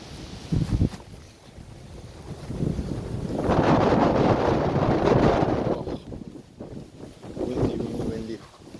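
Gusty wind blows outdoors at a bush site, buffeting the microphone in broad rushing swells that peak in the middle, with brief voices and footsteps around it.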